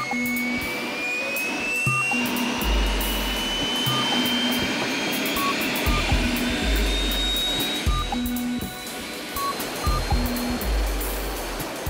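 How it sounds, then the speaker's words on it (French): A helicopter lifts off at a Dakar rally bivouac. A rising turbine whine climbs steadily over dense, roaring rotor and engine noise, with a heavy low rumble that pulses every couple of seconds. "Au moment où l'hélico décolle,"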